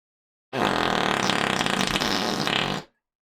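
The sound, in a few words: person imitating fart noises with mouth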